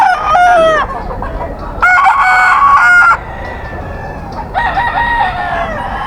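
Several bull stag roosters at a gamefowl market crow loudly in repeated long calls. Quieter clucking and background noise fill the short gaps between them.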